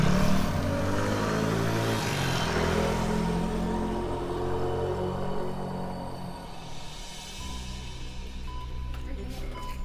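A scooter engine revs and pulls away, its steady drone lasting throughout and easing slightly toward the end, with no voices on top.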